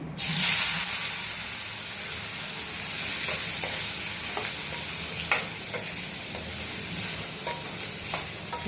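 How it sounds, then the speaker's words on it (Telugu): Sliced onions and green chillies fry in a hot pan for an egg and potato kurma, giving a steady close sizzle with intermittent scraping and stirring clatter and no voices. "ఇప్పుడు ఉల్లిపాయలు పచ్చిమిర్చి వేసేస్తున్నానండి"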